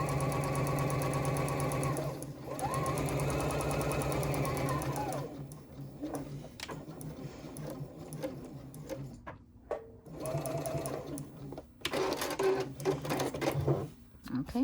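A sewing machine stitches a zipper pocket, running in a continuous whirring burst and then in shorter start-stop runs with pauses between them, close up, with a voice speaking in places.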